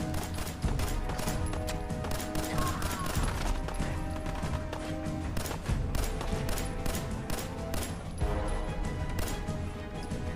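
Dense, continuous gunfire crackles throughout, with rapid bursts and scattered louder shots over a busy background of game-like effects, from the video game Fallout 4.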